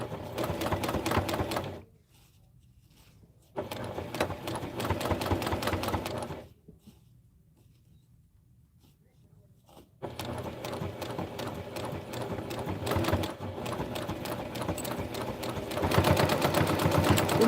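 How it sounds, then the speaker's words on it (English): A sewing machine stitches fast in loud, steady mechanical bursts, stopping twice for quiet pauses before running again at full speed. "did you see how fast I was sewing right then?"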